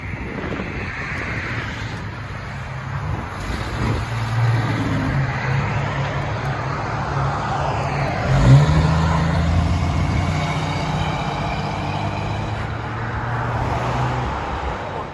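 A 1966 Ford Mustang with a single Flowmaster 40 series exhaust, giving a steady low engine rumble outdoors with wind noise, holding constant with a slight swell midway.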